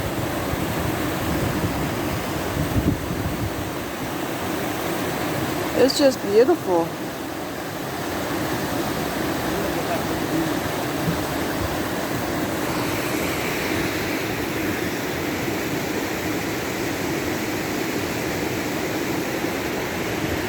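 Big Creek in the Great Smoky Mountains flows in a steady, broadband rush of water close by, an unbroken wash throughout, with a brief spoken remark early on.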